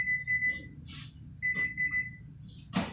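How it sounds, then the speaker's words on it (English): A kitchen timer beeps in two runs of rapid, steady electronic tones while home-canning diced tomatoes, separated by a gap, with clattering kitchen noises and a low background hum throughout. "The timer has gone off for the first minute."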